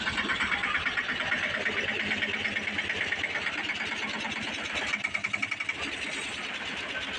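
A tractor engine runs throughout with a steady, rhythmic chugging pulse, fairly quiet and unbroken, with no voices.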